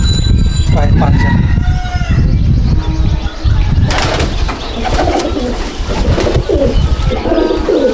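Pigeons in a pigeon loft coo repeatedly and loudly up close, with some fluttering, while someone talks over them for much of the time.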